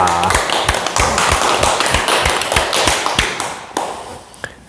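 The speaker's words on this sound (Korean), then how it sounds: "큰 박수 부탁드립니다" An audience claps loudly and close by, with strong, fairly regular beats over a dense wash of hands that thins out toward the end, while a voice murmurs faintly underneath.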